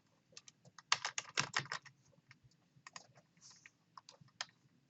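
Close computer keyboard typing, a quick burst of rapid key clicks followed by sparser, irregular taps as a job title is entered, with no speech.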